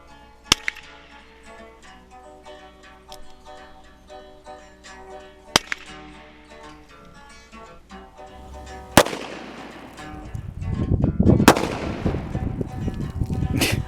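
Colt Lawman Mk III revolver firing 38 Special and 357 Magnum rounds, four sharp separate cracks spread over several seconds, the later ones louder and followed by rumbling echo outdoors.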